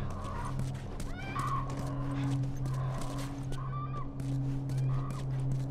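A horse in the video game The Last of Us Remastered whinnies a few times over a steady droning background with clopping and scattered clicks, the calls repeating at a moderate distance.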